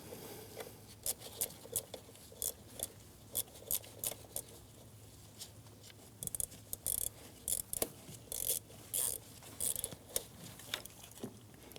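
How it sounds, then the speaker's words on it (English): Small ratchet turning a T20 Torx bit to back out screws securing the MAP sensor on a 2009-2017 Audi Q5, giving bursts of quick, close clicking with pauses between, under a low background hum. "I'll be using a ratchet and a small T20 Torx bit"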